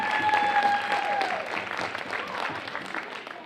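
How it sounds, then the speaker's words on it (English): Parents and families in a school audience at a fifth-grade vocabulary bowl clap together in a short burst of applause that starts full and fades gradually over a few seconds. "give yourselves a round of applause"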